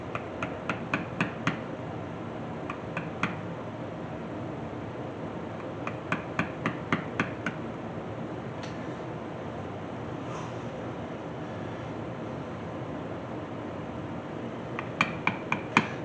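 A beveling tool is tapped on leather in short bursts of crisp, light metallic taps, clustered in quick runs of three to five separated by quiet stretches over a faint steady background hum.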